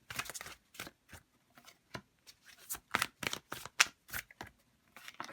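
Tarot cards are shuffled and drawn by hand in a quiet room, a quick irregular series of soft riffling flicks and taps, close and fairly faint, with no talking.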